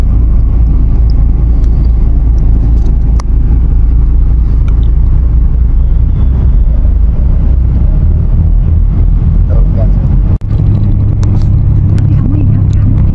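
A bus engine rumbles steadily and loudly while the bus stops at Gombak bus station, a constant low drone with faint background noise throughout.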